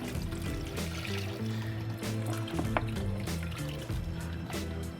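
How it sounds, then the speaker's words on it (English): Fish stock being poured into a pot for bouillabaisse, a steady close liquid stream filling the pot over a low cooking hum, with no talking. "So I'm just gonna get the stock in."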